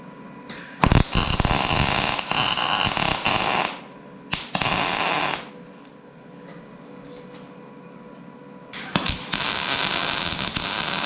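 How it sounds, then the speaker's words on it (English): Tack welding a metal patch panel on a Datsun: three loud bursts of harsh, crackling arc noise, each lasting one to three seconds, with quieter pauses between them and no talking. "Hit it up with a tack weld."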